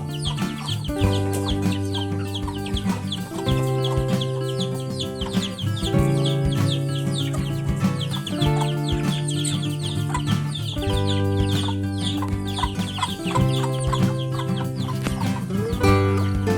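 A flock of village chickens clucks and chatters continuously up close, overlapping calls repeating throughout with no talking.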